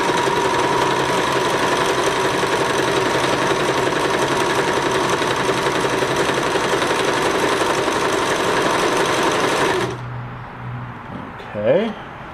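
A rusty Euro Pro X 390H sewing machine runs a wide zigzag stitch in a fast, loud, rattling, continuous whir that stops abruptly near the end, after which a voice speaks.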